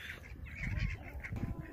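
A large hen in a garden makes soft, low clucking and rustling sounds close by, with continuous murmuring bird noise and faint background activity throughout.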